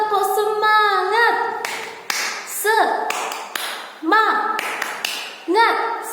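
A class-4 classroom of children does the rhythmic 'tepuk semangat' spirit clap. Short bursts of claps and taps fall in a patterned rhythm, interleaved with loud chanting voices.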